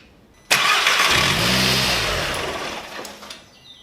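A car engine starts abruptly and idles after a Forge diverter dump valve has been installed. The running tone is close and loud, then tapers off, with a few sharp knocks near the end.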